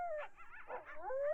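Coyotes howling at night, a single wavering, rising-and-falling cry with yips and whimpering breaks, fairly close and alone without talk.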